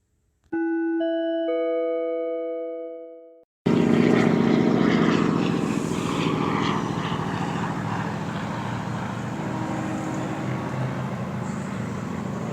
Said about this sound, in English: flying over my head in a small red and white plane